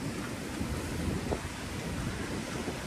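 Strong, continuous water flow rushes from the century-old British-era Bhatghar dam, a dense, steady roar with no breaks and no voices over it.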